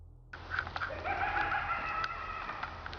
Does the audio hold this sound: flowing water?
no